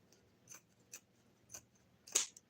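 Scissors snip a V-shaped notch into the end of a ribbon while tying a bow, a few quiet separate snips ending in one sharper, louder cut near the close.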